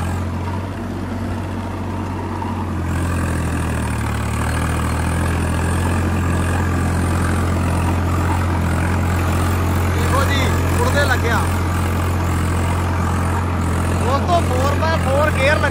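Swaraj 855 4x4 tractor diesel engine holds a steady low rumble near 1650 rpm, close and continuous, with a brief shift in pitch early on and faint clatter and voices in the background.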